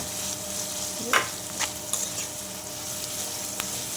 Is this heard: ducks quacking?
no